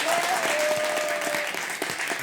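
Dense, steady applause from a live comedy audience voting by clapping for a story, continuous and close, with a faint whistle-like tone early on.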